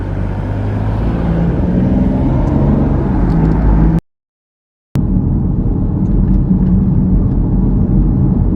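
A car is driving on a road into a small Illinois town, its steady engine rumble and road noise running close and continuous, broken by a brief total silence partway through.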